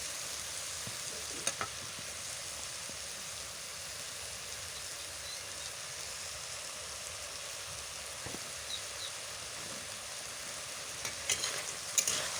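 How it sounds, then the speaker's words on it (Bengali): Cucumber and potato curry is stirred in a wok, giving a steady wet sizzle and scraping with a few sharper clinks against the metal, close and continuous with no talking. "আর একটু তাড়াতাড়ি করে শশা আলুটাকে ভালো করে নাড়তে হবে, নাহলে কড়াইতে বসে যাবে।"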